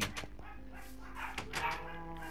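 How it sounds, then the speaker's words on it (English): Several dogs bark in a living room in short, sharp bursts that mix with whimpers and yips. The sound is close and uneven, with brief gaps between the barks. "why is everyone barking in the living room?"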